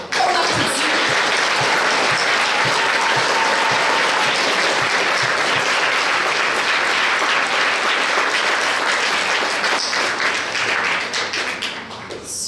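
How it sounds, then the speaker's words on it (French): Audience applause at a regional science fair final in Québec, a dense, loud and continuous clapping from a large crowd that stays steady throughout and thins slightly near the end. "Alors, on applaudit."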